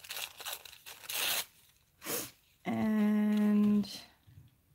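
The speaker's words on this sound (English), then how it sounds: "So like if I tear this here" Paper torn by hand for a junk journal envelope, a few short ripping and crinkling bursts close by, followed by a separate sustained tonal sound, with no voices.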